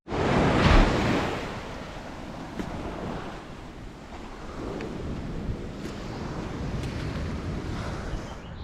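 Ocean surf at Back Bay beach near Mount Irvine, Trinidad, waves breaking and washing in a continuous roar with a louder crash at the start, buffeted by wind across the microphone.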